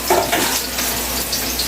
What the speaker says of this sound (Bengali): এদিকে জলটাও ফুটে গেছে, আমি এখন এদিকে চাউমিনটা দিয়ে দেবো।